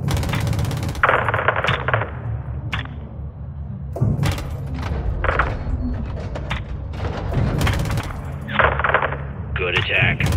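Aircraft cannon fire in Call of Duty: Modern Warfare II's close air support mission comes as repeated short bursts of heavy rounds with thuds and impacts, spaced by brief gaps, while radio voices talk throughout.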